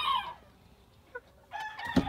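Puerto Rican Kikiriki micro bantam chickens call out close by, a short crowing cry followed by a few brief clucks and then another louder call.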